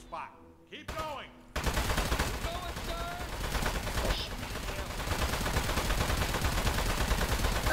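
Rapid gunfire rattles continuously in the game Aperture Desk Job after a short stretch of voice and sound effects, a dense sustained burst of shots that fills the rest of the clip.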